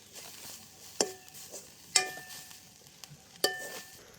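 Grated coconut being stirred and roasted in a pan, with three or four sharp spoon taps against the metal at intervals over a soft, dry scraping and faint sizzle.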